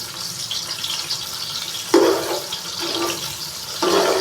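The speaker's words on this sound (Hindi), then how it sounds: "प्याज को हल्का सा फ्राई करेंगे।" Finely chopped onion frying lightly in oil in a pan for vegetable pulao, a continuous hissing sizzle with a few louder surges as it is stirred, close up and with no talking.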